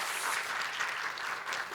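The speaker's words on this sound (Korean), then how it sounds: "여러분들에게 정말 젊은 세대들에게 큰 박수를 보내고 싶습니다" A crowd at a women's party founding convention gives a steady wash of applause honoring the younger generation. The clapping is even and moderately distant, with no voices standing out over it.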